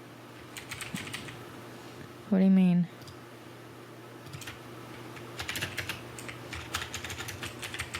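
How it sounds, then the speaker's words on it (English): Fast keystrokes on a computer keyboard patter in bursts, close and fairly loud, while people talk and one voice asks a short question in the middle. "What are you typing?"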